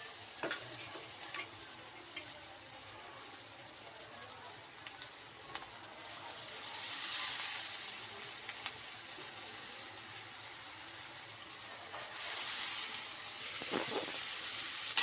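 Steady sizzling and frying as moong dal goes into a hot pan seasoned with red chili powder for a methi bhaji dish. The sizzle swells louder twice, with faint stirring scrapes and no voices.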